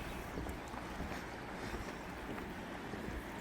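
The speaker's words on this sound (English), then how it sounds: "Water's flowing strong." The Skagit River flows strongly along an interpretive trail, a steady broadband rush of water with wind buffeting the microphone, continuous and close with no talking.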